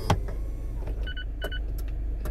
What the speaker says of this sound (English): we're going to lift the top to the point where it comes all the way up, but the top doesn't come down yet